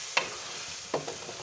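Keema frying with yogurt in a pot, a faint steady sizzle broken by two brief scraping stirs of a spoon against the pot.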